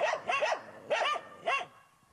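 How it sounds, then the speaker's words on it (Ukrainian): Guard dogs bark at a guarded gated site, four sharp barks in quick succession, fairly close and alone against quiet background. "Територію охороняють собаки."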